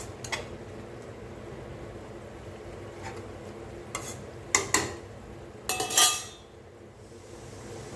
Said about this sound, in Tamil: நடுவில் நடுவில் கிளறி கொடுங்க